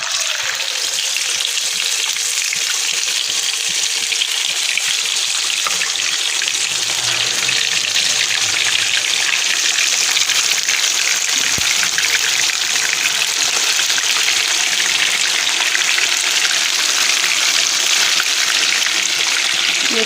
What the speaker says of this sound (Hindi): अब मैं फ्राई करने लगी हूँ।